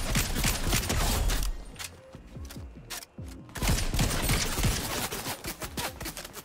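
Gunfire in the game Fortnite, rapid loud shots in bursts with a short lull midway, then resuming in a quick repeating rhythm, close and dominant.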